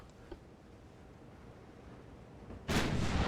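Warship guns firing in the naval battle game Ultimate Admiral: Dreadnoughts, a faint early thump followed by a loud, sustained booming rumble of artillery near the end.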